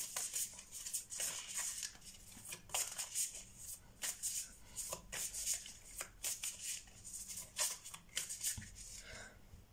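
Tarot cards being shuffled by hand, a soft, steady run of riffling and patting bursts, close and quiet, with no talking.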